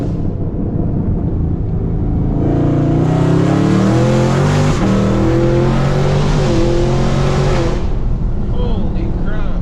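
An 800hp Camaro ZL1 revs loud and hard with its wheels spinning, the engine note climbing and holding at a high, harsh pitch close up before easing off, with excited voices over it.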